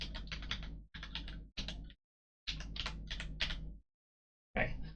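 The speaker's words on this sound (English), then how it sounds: "let's try typing it." Bursts of typing on a computer keyboard during a computer puzzle game, close and clear, in several quick runs of keystrokes separated by short pauses.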